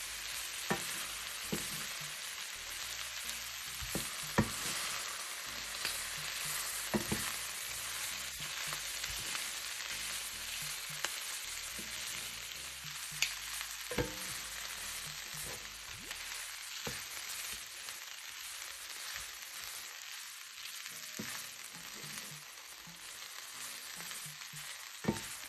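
Ghanaian jollof rice is stirred in a frying pot over the heat: a continuous loud sizzle runs throughout, broken by irregular scraping knocks of the spoon against the pot, with no talking.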